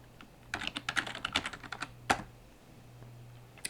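Fingers tap a computer keyboard entering a username and password, a quick burst of close, crisp keystrokes followed by a sharper single key press and a pause, with a faint hum underneath.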